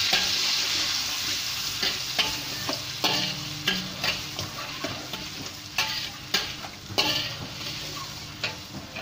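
Garlic and onions fry in a wok, a steady bright sizzle with repeated scraping strokes of a spatula stirring at a regular pace, close by and without talk.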